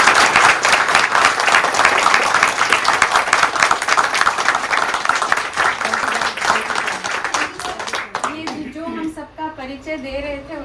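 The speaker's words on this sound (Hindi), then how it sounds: "तालियां।" Audience at a Hindi theatre play, Mohan Rakesh's Ande ke Chhilke in Gurgaon, giving loud sustained applause that fades out, followed by someone speaking.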